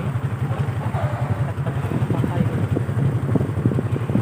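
A motorcycle engine throbs steadily nearby in a low, pulsing rhythm while riding, mixed with wind buffeting and a voice talking.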